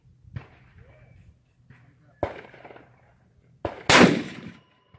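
Sharp reports from a kids' .243 deer rifle being sighted in, several distinct bangs spread over a few seconds, the last and loudest close and booming, with quiet gaps between.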